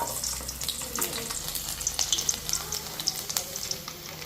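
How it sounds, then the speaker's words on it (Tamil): Garlic sizzles and crackles in hot oil, with steady frying hiss and scattered pops close to the microphone; no one speaks. "எண்ணெய் நல்லா சுட்டுச்சு இல்லை பூண்டு போட்டுக்கலாம்"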